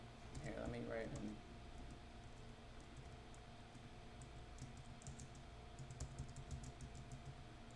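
Quiet clicking of keys on a computer keyboard during a Guild Wars 2 session, a light scattered patter of taps at low level beneath a steady game hum and a brief voice at the start.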